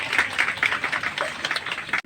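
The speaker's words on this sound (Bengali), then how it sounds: "সকলে মিলে দেবেন করতালি" An audience at a Women's Day gathering in Haringhata claps together in quick, fairly even rhythmic bursts, moderately loud and close, for about two seconds.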